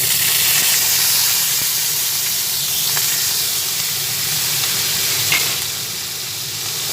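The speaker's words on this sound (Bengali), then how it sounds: "তেলের মধ্যে দিয়ে এগুলো একসঙ্গে ভেজে নিচ্ছি পেঁয়াজ রসুন আদা" Onion, garlic and ginger frying together in hot oil, a loud continuous sizzle and hiss with occasional stirring, no voices.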